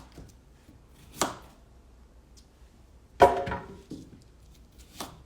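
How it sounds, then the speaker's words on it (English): A knife chops vegetables for beet juice on a cutting board, three separate sharp strikes spaced a couple of seconds apart, close and fairly crisp against a quiet room. "I'm going to cut up and peel some of these vegetables"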